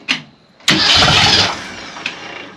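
An old Ford Econoline travel wagon, left sitting for more than 15 years, cranks briefly and then roars loudly to life, settling into a rough, steady run, close by with no talk.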